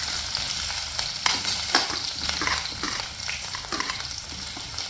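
Onion and green chillies sautéing in oil in a pan for a coconut sardine curry, a continuous close sizzle broken by several scraping stirs of a spoon, without any talking.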